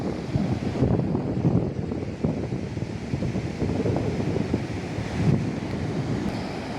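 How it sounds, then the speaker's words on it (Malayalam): Ocean surf rolling onto a beach beside a sea wall, with steady broadband wash and wind buffeting the microphone throughout, several swells surging a little louder along the way. "തിരുമാലയുടെയൊക്കെ സൗണ്ട് നിങ്ങളും കേൾക്കുന്നുണ്ടാവും."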